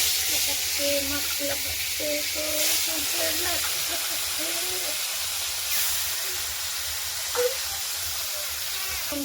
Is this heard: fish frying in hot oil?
yes